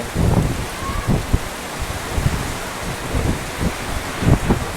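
Steady heavy rain from a storm hisses close by, with dull gusts and low rumbling thumps rising and falling throughout.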